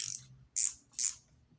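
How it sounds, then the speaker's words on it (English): A small ratcheting elbow wrench clicks in three quick bursts, each a crisp, close ratchet buzz separated by short pauses. "Elbow wrench."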